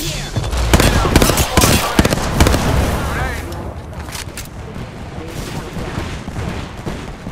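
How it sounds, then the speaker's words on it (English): Rapid bursts of gunfire in the Apex Legends game crack loudly in a dense cluster during the first few seconds, then give way to a lower, rumbling aftermath of scattered shots and noise. "I am taking fire"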